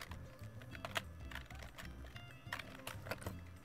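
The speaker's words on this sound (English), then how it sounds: "Oh, I was typing." Quick, uneven clicks of typing on a computer keyboard run in short bursts, close and fairly quiet, with no voices over them.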